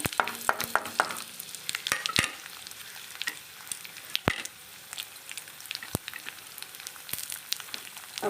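Mustard seeds spluttering in hot oil, a close scatter of sharp pops and crackles, busy at first and then thinning to sparse snaps over a soft sizzle.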